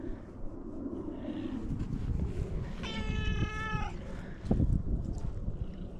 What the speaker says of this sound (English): You got a real distinct meow about you, don't you?